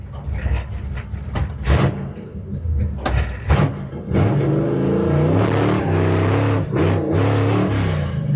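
Drag race car making a practice launch on a return road at Big Sky Race Week in Montana, with engine rumble building into a loud, sustained revving roar that holds steady, heard close.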